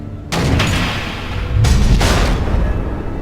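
Missiles explode in the Batman Telltale Season 2 video game: two loud, heavy booms about a second apart, each followed by a long, rumbling roar that fills the short stretch with no speech.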